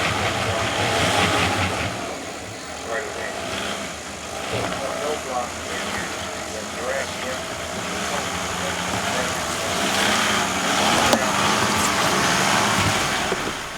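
A Toyota Land Cruiser crawls slowly through a 4WD competition course, its engine idling and revving gently in a steady rumble. Outdoor noise sits around it, and the level swells and dips slightly over the run.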